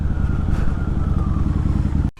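A Harley-Davidson V-Rod motorcycle rumbles loudly while riding, a steady throbbing engine drone heard from the rider's position, ending with an abrupt cut at the end.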